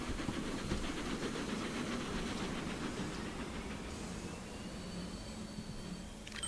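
KKSTB steam locomotive accelerating in the game Transport Fever 2, a steady rumbling, hissing engine noise with rhythmic chuffing, continuous and moderately loud throughout, without any talking.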